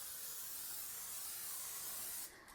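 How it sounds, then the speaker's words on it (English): Cooking spray hisses steadily from an aerosol can onto a candy sheet pan, one continuous close spray lasting about two seconds before cutting off. "We're going to spray it with just a little bit of cooking spray."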